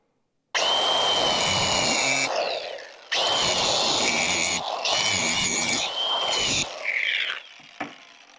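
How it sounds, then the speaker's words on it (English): Angle grinder cutting metal and throwing sparks while a C10 truck is fitted with power steering: three long, loud, close bursts of harsh high-pitched grinding separated by brief pauses, ending with a few short clanks. "But we're going to go ahead and take this grinder. I'm going to make some sparks really quick"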